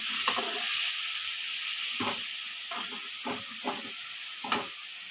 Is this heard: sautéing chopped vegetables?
yes